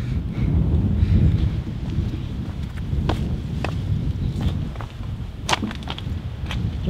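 Wind gusts through the metal hull of the abandoned MV Alta ship on the coast near Cork, Ireland, a low rumbling roar with scattered sharp creaks and metallic knocks throughout.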